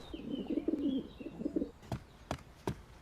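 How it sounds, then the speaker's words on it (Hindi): A pigeon coos in two soft, rolling bursts close by, then a few sharp taps or wing flaps follow. "ये तो बहुत ढीठ कबूतर है"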